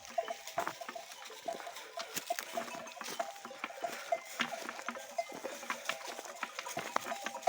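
A ewe and her young lamb move about on a mountainside, with soft patter and faint bell-like clinks over a quiet, rustling background.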